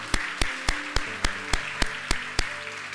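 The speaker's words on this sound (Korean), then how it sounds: "우리 다시 한번 하나님 앞에 감사와 영광의 박수 올려드리도록 하겠습니다." A church congregation at a Korean worship service claps in unison, about ten sharp claps on a steady, even beat, loud and close with no talking over them.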